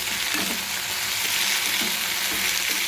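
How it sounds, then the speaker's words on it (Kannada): Crushed garlic and leafy greens frying in a hot pan with cumin, a steady close sizzle throughout, with a few soft stirring scrapes. "ಬೆಳ್ಳುಳ್ಳಿ ಸ್ವಲ್ಪ ಫ್ರೈ ಆದಮೇಲೆ ಈಗ ಅದಕ್ಕೆ ಸೊಪ್ಪು ಹಾಕಿದ್ದೀನಿ"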